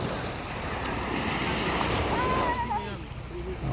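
Sea surf rolls steadily at San Antonio, Zambales, a continuous wash of waves mixed with wind buffeting the microphone, while a voice talks faintly over it.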